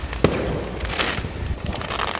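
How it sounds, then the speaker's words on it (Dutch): Fireworks bursting over a bonfire-stack gathering in Alkmaar, a rapid string of crackling pops and thuds layered over a continuous rumbling background. "Wel mooi vuurwerk hier ook."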